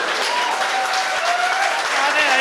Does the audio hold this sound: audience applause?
yes